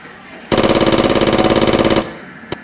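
Close, loud automatic gunfire in the video game Fightfield 2 during the Battle of Bogura: one rapid burst of about a second and a half, followed moments later by a single sharp shot.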